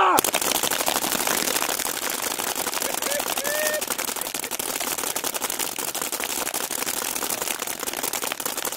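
Rapid volleys of gunfire from a staged firing squad, a dense crackling burst of repeated shots running steadily throughout at close range, with voices talking over the shooting.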